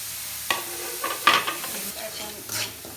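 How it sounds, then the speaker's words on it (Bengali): Spices with salt and turmeric sauté in hot oil in a pan, giving a steady low sizzle. A spatula stirs and scrapes the pan several times with sharp metallic clinks, heard up close. "এখন সব কটি মশলা একসাথে ভালো করে কষিয়ে নিব।"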